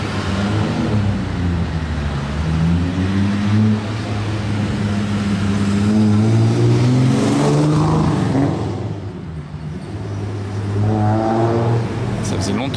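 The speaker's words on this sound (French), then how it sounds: "on a une Zagato là qui arrive. Ça, c'est un truc de ouf et elle fait un bruit" A Zagato sports car arrives on a Monaco street, its mid-pitched engine droning and revving steadily as it approaches, with a person talking over it and a brief dip near the end.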